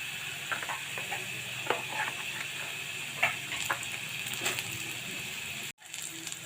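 Ghee and chopped garlic sizzle steadily in hot oil in a pan, with scattered stirring clicks and scrapes over the frying hiss. A brief dropout comes near the end, then the sizzle resumes.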